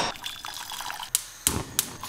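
Water boiling in a pot on a kitchen stove gives a steady, close bubbling and hissing with a few sharp pops and clicks breaking through.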